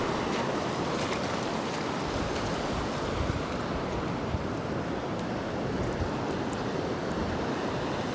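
Surf waves breaking on a beach shore during surf fishing, a continuous broad wash of crashing water with wind noise, steady and close with no talk.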